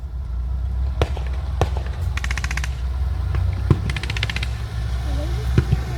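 Artillery shelling and gunfire at an early WW2 battle reenactment at TankFest, with tanks and panzers: scattered sharp bangs and quick rattling bursts over a steady low rumble, with voices talking throughout.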